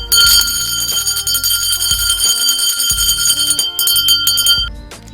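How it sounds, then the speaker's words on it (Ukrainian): Traditional first school bell for September 1 ringing loudly and close, a bright metallic clanging in rapid repeated strikes that pauses briefly and then resumes, with no talking. "ніщо не завадить почути традиційний перший дзвінок на честь сьогоднішнього свята"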